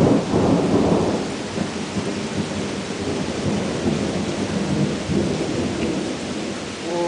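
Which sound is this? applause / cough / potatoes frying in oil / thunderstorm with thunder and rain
thunderstorm with thunder and rain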